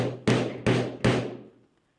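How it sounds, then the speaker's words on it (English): A hammer strikes a COBRA 18R2 unit three times in an even rhythm, each blow a sharp, close, resonant bang that rings out briefly before fading to quiet. "I'm going to hit this unit with a hammer."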